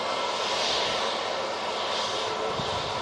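A Lufthansa plane at Manchester Airport produces a steady jet engine roar with a broad hiss that swells and eases slightly, moderately distant and without voices.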